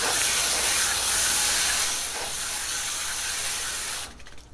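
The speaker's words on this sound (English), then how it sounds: "This can be cleaned easily just using a simple garden hose and sprayer." A garden hose sprayer blasts water across an AC condenser coil, making a loud, even hissing spray that eases slightly partway through and cuts off abruptly near the end.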